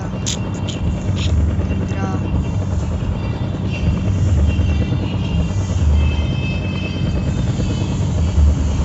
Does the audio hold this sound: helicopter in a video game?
yes